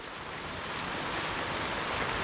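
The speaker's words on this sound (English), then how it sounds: "So this is our rainy day. Rainy, drizzly day." Steady summer drizzle falling outside a front door, a soft, even hiss of rain that holds at a constant level throughout with no distinct drops standing out.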